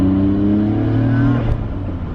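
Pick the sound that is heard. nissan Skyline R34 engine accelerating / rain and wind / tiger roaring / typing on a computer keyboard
nissan Skyline R34 engine accelerating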